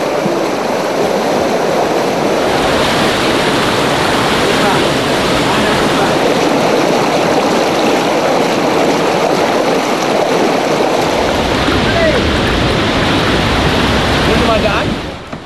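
Loud, steady roar of a strong river current rushing over rocks near Pagsanjan Falls fills the scene without a break, close by, with a voice faintly underneath.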